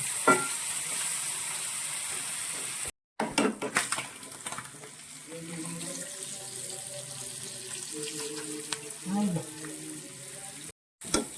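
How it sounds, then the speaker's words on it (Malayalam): Anchovies for fish pickle deep-fry in plenty of oil, a continuous close sizzle and bubbling with occasional light clinks of utensils and two brief dropouts. "നമ്മൾ നല്ലവണ്ണം ഇതിനെ എണ്ണ ഒഴിച്ച് നന്നായിട്ട് മുരിച്ചെടുക്കണം"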